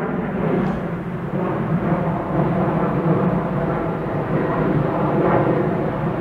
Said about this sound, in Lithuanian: Biškį tikriausiai lėktuvas girdis.